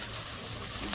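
Spice paste with Kashmiri chillies, turmeric and salt fries in a pan for tangra fish jhal chochari, a dense, close, continuous sizzle heard alone.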